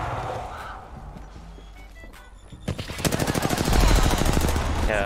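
Rapid automatic gunfire in the shooter game Apex Legends starts partway through and continues as a loud, dense string of shots over low game ambience.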